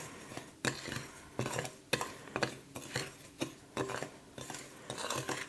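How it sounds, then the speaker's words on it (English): Dry bath bomb ingredients, including Epsom salts and citric acid, being stirred in a bowl, giving a series of short scraping, clinking strokes in a steady rhythm, close and fairly quiet with no talk. "So those all go in the bowl together. And just give it a quick mix."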